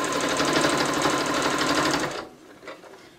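A sewing machine runs in a steady, fast stitching whir for about two seconds, then stops abruptly, leaving a faint click and quiet room tone.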